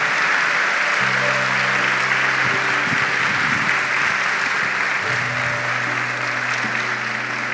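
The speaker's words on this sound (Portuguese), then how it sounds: "dê uma salva de palmas bem forte a Jesus" Strong, sustained applause from a church congregation at a Catholic Mass, steady clapping filling the room for several seconds, loud and continuous with a few voices rising briefly underneath.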